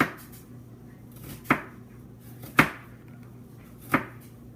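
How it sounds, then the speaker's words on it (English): A knife chops an onion on a cutting board, making four sharp, separate cuts spaced about a second apart. Each cut is close and crisp, with a quiet kitchen background and no talking. "We're going to do one cut across, and then we're going to just turn it and do a few more cuts."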